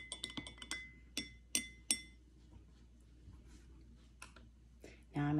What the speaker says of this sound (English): I'm going to use one of my popsicle sticks and I'm going to stir it